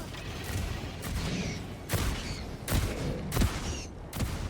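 EXO-49 Emancipator mech autocannon firing in Helldivers 2: heavy, booming shots roughly every second, each with a mechanical clatter and a ringing tail over a constant rumbling battle background, with no talking.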